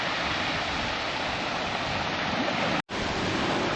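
Sea waves washing onto the shore at Lulworth Cove, a steady broad hiss of surf with wind, interrupted by a brief dropout near the end.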